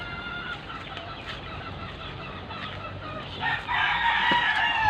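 Chickens clucking nearby, then a rooster lets out a loud crow toward the end, with general farmyard noise throughout.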